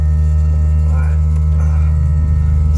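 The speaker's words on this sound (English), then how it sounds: "sorry about the noise, that's my air compressor for my train horn." An air compressor for a train horn runs steadily with a loud, continuous low mechanical drone and hum throughout, close by, outdoors on a mountain in Big Bear, California.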